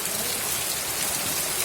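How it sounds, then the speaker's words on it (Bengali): Heavy rain pours steadily on a rainy-season day, a dense, continuous hiss of drops drumming on surfaces close by, loud and unbroken throughout with no voices. "প্রচণ্ড জোরে বৃষ্টি হচ্ছে"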